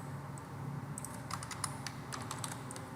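Computer keyboard keys are tapped in a short, quiet run of light clicks, a few quick presses in a cluster, as in a Control plus Space shortcut, over faint room hum with no talking.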